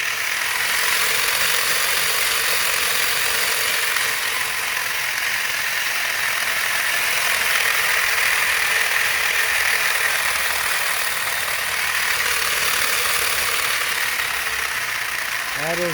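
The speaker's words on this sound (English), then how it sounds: "That is one loud motor." A 3D printed pulse motor running loudly and continuously, a close, dense mechanical whirring rattle that holds steady throughout with no pauses.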